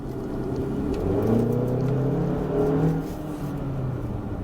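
A 2017 Kia Sportage SX engine revs up and accelerates hard, a steady mid-pitched drone rising in strength then holding, with no voices over it.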